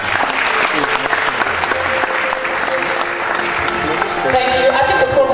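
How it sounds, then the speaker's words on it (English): An audience at a College of Medicine scientific conference plenary session applauds loudly and steadily, dense clapping filling the hall while a few voices and a brief musical tone sound faintly underneath. "I think the provost deserves another round of applause."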